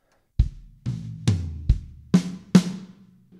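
A slow drum fill of six separate hits moving across kick, toms and snare, each ringing out briefly before the next, played alone.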